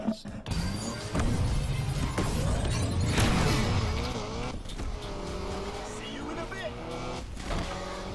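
Honda Civic starter car engine in Need for Speed Unbound, revving and accelerating loudly with shifting tones, near and continuous, with voice talking over it.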